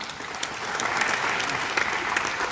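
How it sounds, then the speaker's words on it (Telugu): Steady audience applause fills a hall at the fifth anniversary celebration of Lakshmi Kuchipudi Dance Academy in Hyderabad, a dense continuous wash of many hands clapping throughout with no talk. "సో వాళ్ళందరికీ ఒకసారి చప్పట్లు కొడతాము"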